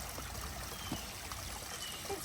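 Creek water trickling and dribbling past rocks, a steady wash of flowing water close by with no voices, filling the whole moment evenly.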